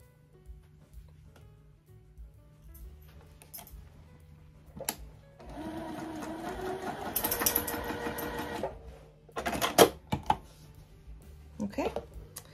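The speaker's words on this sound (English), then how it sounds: "I'm going to stitch from this corner up to this corner" A sewing machine stitches a quilted mug rug in a steady, moderately loud mechanical run of about three seconds, followed by a few brief clicks and handling noises, with a person speaking softly around it.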